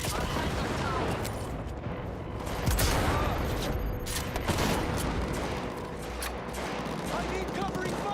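Sustained gunfire in the video game Cyberpunk 2077, dense rapid volleys with a louder burst partway through, continuing steadily and up close throughout.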